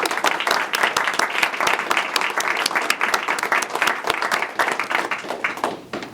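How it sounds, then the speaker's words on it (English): Audience applause at a state government announcement in Massachusetts: dense, steady clapping from many hands that carries on for about six seconds and starts to thin out near the end. "I think that deserves a round of applause"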